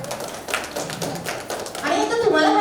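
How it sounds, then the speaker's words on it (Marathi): Guests at a baby shower break into a round of clapping, scattered hand claps over lively voices that swell toward the end. "एकदा जोरात टाळ्या"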